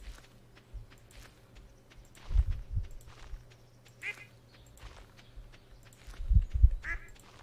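Duck quacks from the Stardew Valley video game, a few soft, brief calls scattered over a quiet farm soundscape with light footstep-like game effects.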